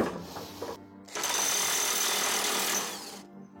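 A Narex ASR 600 impact wrench, rated at 2050 Nm, loosens tightly torqued bolts on mode 3, its loud continuous hammering rattle running for about two seconds after a brief quieter start.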